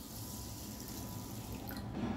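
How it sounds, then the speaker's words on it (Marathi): Water runs from a tap into a bowl of rice for washing, a steady close splashing gush that lasts about two seconds. "याच्यामध्ये पाणी टाकते"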